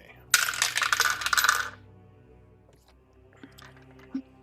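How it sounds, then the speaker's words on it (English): Dice rolled for a tabletop role-playing game give a sharp, close clattering burst lasting over a second, then quiet with a couple of faint small clicks. "I'll check with the dice."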